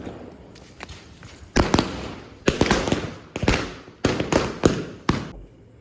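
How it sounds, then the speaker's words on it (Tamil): Repeated bursts of small Diwali firecrackers crackle and pop in quick clusters, several rapid strings going off one after another, loud and nearby. "மாமா வந்து குட்டி சரா வெடி வைக்க போகிறாரு"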